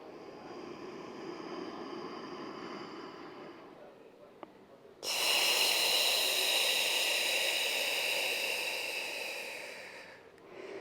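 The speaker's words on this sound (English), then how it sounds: "taking those big expansive breaths, exhaling strong" Long, broad breathing during a floor-based tummy-time decompression stretch: a steady breathy inhale, then a louder, forceful rushing exhale lasting several seconds, close and alone with no talking.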